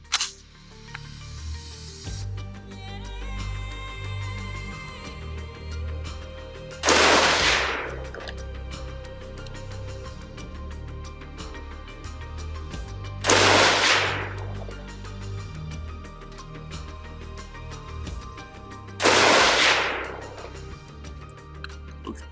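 A Spike's Tactical ST-15 16-inch M4 LE carbine AR-15 rifle firing Gorilla 69 grain ammunition outdoors, three loud, sharp single shots spaced about six seconds apart, each with a short ringing echo.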